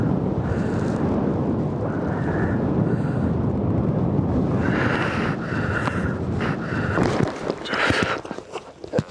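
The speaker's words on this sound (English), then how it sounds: "too windy. I think I'm gonna land." Heavy wind roars and buffets the microphone nonstop during a flight that is being cut short, loud and turbulent, with gusts rising toward the end.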